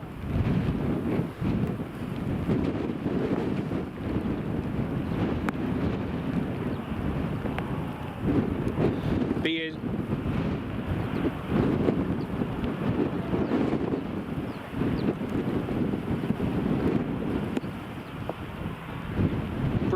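Storm Ashley at Newcastle Airport brings heavy rain and wind: a constant loud rushing roar with wind buffeting the microphone, and one short sharp crackle midway.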